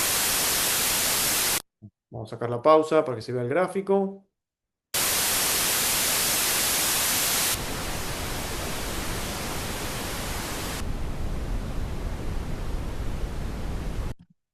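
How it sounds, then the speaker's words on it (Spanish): Bursts of broadband test noise, white then pink and darker brown, play as long steady hiss blocks, loud and uniform, with a short spoken phrase between the first two blocks. "Ruido rosa, ruido blanco, rosa, marrón."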